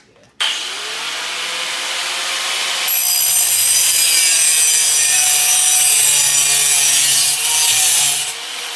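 A handsaw cuts slits into the end of a steel exhaust pipe for a custom BMW E36 exhaust, its loud, steady rasping strokes carrying on without pause and growing harsher partway through.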